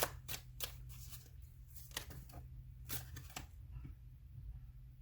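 A stiff deck of tarot-style pick-a-card cards being shuffled, giving repeated crisp riffling bursts close by over a steady low hum, with no talking.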